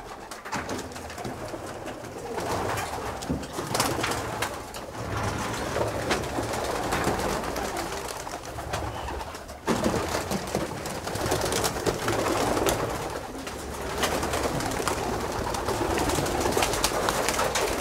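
A flock of pigeons coos continuously as they are released, with soft, layered calls over rustling background noise and no talking.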